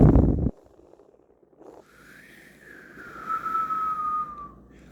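A single drawn-out whistle rises and then slowly falls in pitch, fairly clear over quiet background hiss after a brief burst of noise at the start.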